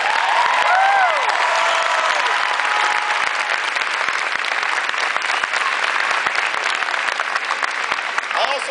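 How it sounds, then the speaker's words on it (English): Dense crowd applause at a political speech in Columbia, South Carolina fills the whole stretch, loud and steady with a few cheers and whistles rising near the start. "give them a big round of applause"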